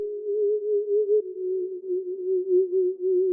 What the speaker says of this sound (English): we came back into Omnisphere and just chose this Theremin's Journey preset